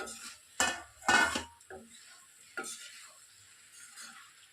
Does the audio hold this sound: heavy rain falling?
no